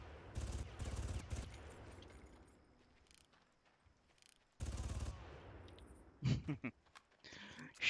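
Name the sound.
gunfire in the video game Far Cry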